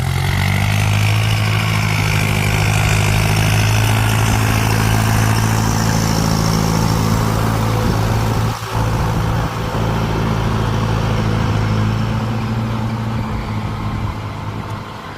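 Diesel engine of a Ford 5000 turbo tractor running steadily up close, a loud, low, even idle that dips briefly partway through before settling back into a constant rumble.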